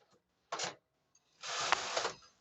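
A Brother KH800 knitting machine carriage knits a tuck row, giving a short mechanical rasp followed after a pause by a longer, louder sliding clatter as the carriage crosses the needles, close and alone.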